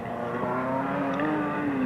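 Div 2 sedan race cars roar around a speedway in a feature race, a steady loud engine drone with a gradually shifting pitch as cars pass.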